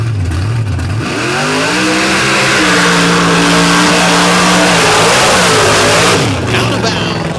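A race truck launches down a drag strip with a loud, close engine roar rising through the gears, while a commentator talks over it.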